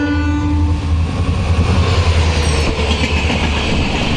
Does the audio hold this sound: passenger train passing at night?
yes